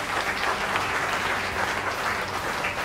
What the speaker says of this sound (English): a big round of applause for our runner-ups